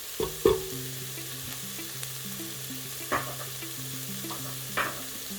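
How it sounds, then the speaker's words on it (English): Aromatics fry in a pan as the base for vegan Filipino lugaw: a soft, steady sizzle under a faint low hum, broken by a few sharp clinks and stirring knocks. "we're going to let that fry for about 2 to 3 minutes before we add the rice and the water"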